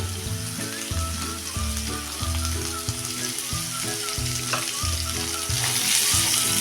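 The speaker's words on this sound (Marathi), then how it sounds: "बघा आता ह्या फोडी परतत असताना आपण लगेचच मीठ टाकून घेणार आहे" Pumpkin pieces sauté in oil with a continuous sizzle and rhythmic stirring strokes, while a sustained tonal hum runs underneath and the frying swells louder near the end, without speech.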